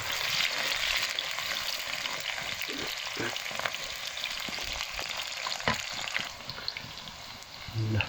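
Garlic and onion fry in oil for a bako curry, making a continuous close sizzle broken by scraping and clinking as they are stirred, and the sizzle thins toward the end.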